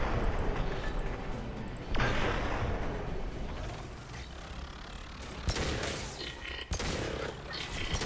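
Pistol gunfire in the video game Mass Effect 2 crackles through a dense, noisy firefight, with several sharp shots landing amid a steady roar of battle and mechanical noise.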